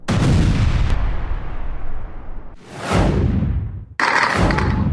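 Loud gunfire and heavy explosive blasts from an Israeli–Palestinian clash with Israeli forces in Ramallah, West Bank, booming and crackling in close succession with sharp new bursts that cut in abruptly, no voices heard.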